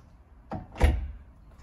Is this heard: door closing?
yes